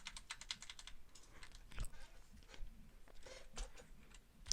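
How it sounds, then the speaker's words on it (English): Typing on a SteelSeries computer keyboard, with a steady run of quick, close key clicks at a fairly low level and no talking. "this is a SteelSeries keyboard"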